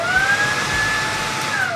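Dreame T20 cordless vacuum cleaner running on its quietest eco mode: a steady motor whine with a high tonal hum over broadband airflow rush, close and continuous, with no talking.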